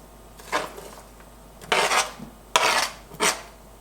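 Chopped onions, tomatoes and cilantro tossed into a dish for shrimp tacos, a few short scraping, clattering bursts close by with quiet pauses between.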